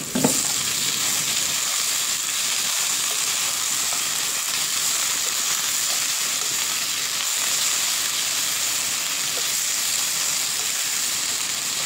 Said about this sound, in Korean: 그리고 양파 볶은 걸 같이 한번 더 넣어줍니다.